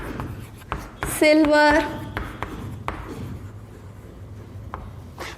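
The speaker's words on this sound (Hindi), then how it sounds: "देखो मैं एग्जाम्पल लिखती हूँ यहाँ पे" A teacher writes science examples by hand on a board, producing short scratchy strokes and taps at a moderate level, partly under her spoken explanation in Hindi.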